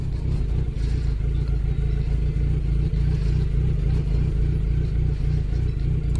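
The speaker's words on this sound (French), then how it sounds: "j'ai mon pot d'échappement, il fait pa pa pa" A motorcycle engine runs steadily nearby with a loud low rumble and irregular clattering pops from a faulty exhaust, continuous with no voices over it.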